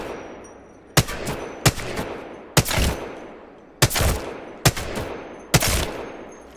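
Six separate loud gunshots ring out during aim practice in the video game Apex, spaced about a second apart, each a sharp crack with a short echoing tail.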